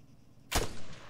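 A single sharp gunshot in Arma 3, a loud close crack with a short rumbling tail, heard alone without speech.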